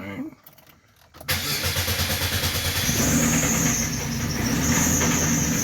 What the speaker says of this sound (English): It starts up, which I ain't started in a few days.